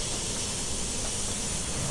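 A steam locomotive on the steep Saluda railroad grade lets off a steady, close, broadband hiss of steam that holds evenly without any break.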